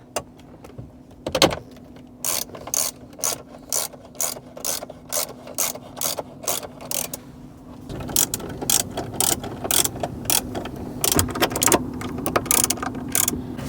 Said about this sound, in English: and then you're going to tighten the bolts down.